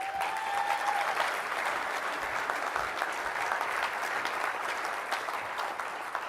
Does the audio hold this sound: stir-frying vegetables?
no